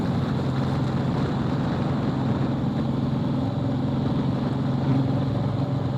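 Riding a Royal Enfield motorcycle on the road during a Char Dham pilgrimage to Badrinath: a steady low engine drone mixed with wind rush, constant and close, with no talk.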